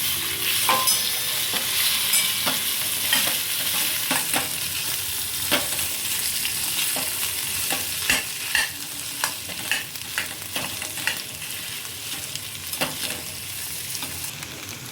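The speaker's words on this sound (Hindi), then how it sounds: "आधी चम्मच हल्दी पाउडर, मिक्स कर लेंगे। फिर हमारे उबले हुए आलू ऐड कर देंगे।" Boiled potatoes with turmeric being stirred and fried in a pan, a steady sizzle under repeated scraping and clacking spoon strokes, close and continuous with no talking.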